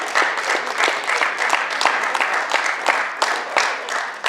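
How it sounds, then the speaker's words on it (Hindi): Sustained audience applause after a stage dance performance at a cultural event, a dense run of clapping from a sizable crowd that keeps going steadily, with faint voices mixed in. "और तालियां"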